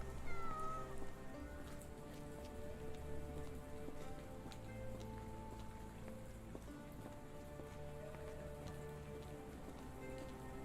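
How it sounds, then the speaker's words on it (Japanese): A cat meows briefly inside the Sherlock Holmes The Awakened video game, faint and short against steady rain pattering on surfaces and low background music. "猫だ。"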